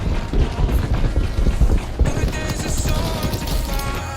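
In the online shooter Shatterline, an enemy's running footsteps patter in quick, even beats, loud through the first half, then softer and more distant under busy game noise and effects.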